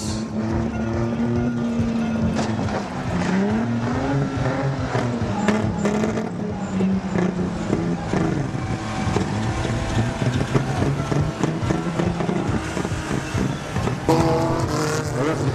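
BriSCA F1 and F2 stock cars race in 2006, several engines roaring loudly and continuously with rising and falling pitch as they pass, a dense unbroken motor drone with crowd or commentary faintly underneath.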